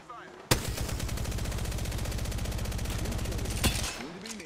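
Rapid automatic gunfire in a video game, a sustained burst of evenly spaced loud shots for about three seconds, opening and closing with sharper cracks, with no talking over it.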